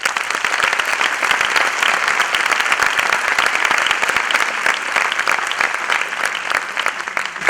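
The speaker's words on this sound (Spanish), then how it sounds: "También les pido un aplauso para ellos." An audience at a conference gives sustained, dense applause for the event organizers, a steady wash of many hands clapping that stays loud and even for the whole stretch, with no voices over it.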